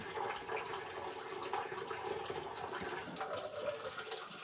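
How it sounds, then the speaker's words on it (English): Spring water trickles and splashes into a cool spring house tank, a continuous, moderately quiet gurgling flow with no voices. "It don't flow fast, so it don't really flush real quick out of this tank"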